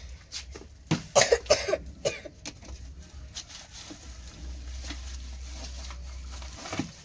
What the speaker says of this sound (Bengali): বুঝলে নাকি সর্দি বসেছে বলছে, ওই জন্য এত কাশি হচ্ছে